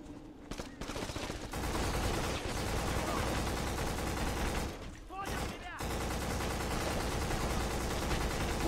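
Rapid gunfire bursts crackle through a shooter game on PS2, Black, in the Naszran City level, with dense overlapping shots and explosions; a voice speaks briefly amid the shooting.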